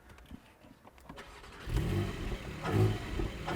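The 4.0 engine of a 2020 Porsche 718 GTS fires up and revs, rising from a quiet idle into a loud, full roar close by, with a second rev swelling near the end.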